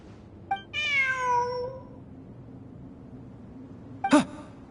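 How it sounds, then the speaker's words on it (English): A cat in Genshin Impact gives a short chirp, then a drawn-out meow, and after a pause another brief sharp cry, each close and clear over quiet game ambience. "Look! A cat!"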